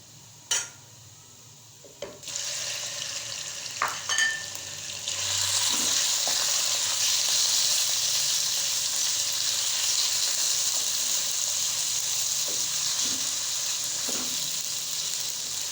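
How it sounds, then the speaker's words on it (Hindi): Chicken sizzles and fries in hot oil, a steady loud crackle with a few clinks and scrapes of a utensil stirring in the pan. "हम चिकन को ऑयल में पकाएंगे जब तक इसका कलर चेंज नहीं होता।"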